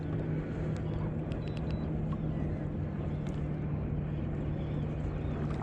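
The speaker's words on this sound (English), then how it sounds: "I got the motor backtracking anyway" An outboard boat motor runs in reverse while the boat drifts downstream on the Detroit River during walleye fishing, a continuous low, droning rumble that holds steady throughout.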